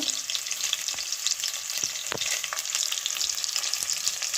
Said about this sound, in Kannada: ಈಗ ಈರುಳ್ಳಿ ಹಾಕೊಂಬಿಡೋಣ ಇದನ್ನು ಚೆನ್ನಾಗಿ ಹುರ್ಕೋಬೇಕು